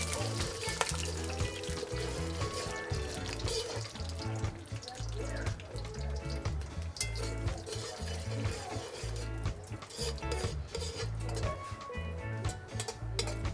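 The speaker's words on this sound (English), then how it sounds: "So that's the sugar burning there." Sugar caramelizing in a pot over a wood-fired chulha stove outdoors in Trinidad, giving a steady, dense crackling sizzle that runs throughout with busy clatter, close and fairly loud.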